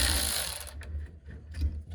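A ratchet works loose a 14 mm brake caliper bolt on a Nissan Frontier's rear brakes, a burst of broad noise followed by several sharp, close mechanical clicks.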